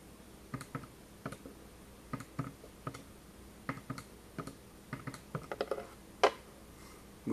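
Numbers being keyed into a statistics calculator: a steady series of soft, close button clicks at an irregular pace, fairly quiet, with no voices.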